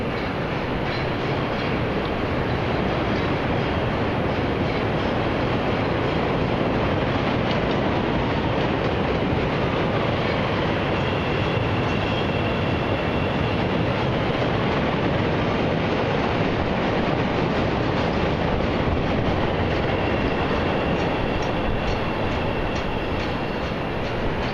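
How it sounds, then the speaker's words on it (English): A Chicago 'L' elevated train rumbles past in downtown Chicago in a long, loud, continuous roar with faint rhythmic clatter, steady throughout, no voices. "I'm gonna pause for a second so you can hear the elevated train go by"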